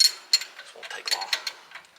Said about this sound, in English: Well, the line wrench will work.